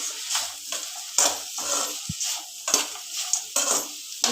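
Cinnamon, cloves, poppy seeds and roasted gram fry together in a pan for egg and chicken sambar, a soft sizzle punctuated by repeated scraping stirs and a single metallic tap, close and without talk.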